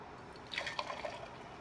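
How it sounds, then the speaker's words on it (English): Homemade nut milk is poured into a medium-sized jar, making a faint, brief trickle and splash that sits close and quiet. "I'm going to pour it into a jar."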